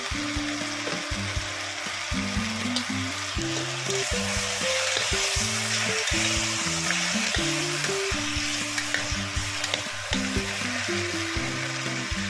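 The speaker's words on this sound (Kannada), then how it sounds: "ಹುಳ್ಳಿಕಾಯಿನ ಸೇರಿಸ್ತಾ ಇದ್ದೀನಿ." Green beans frying in a hot pan for pulao, a continuous close sizzle with soft stirring scrapes and a repeating mechanical whirr running steadily underneath.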